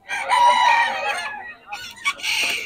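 Rooster crowing among chickens offered for sale at a farm poultry market in Bocaue, Bulacan, with one loud, close crow lasting over a second, followed after a short pause by a few shorter clucking calls.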